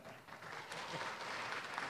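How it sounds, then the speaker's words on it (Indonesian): Audience applause at a democracy forum, a soft, steady wash of many hands clapping heard from a distance for about two seconds, with no voices over it. "Silakan tepuk tangan."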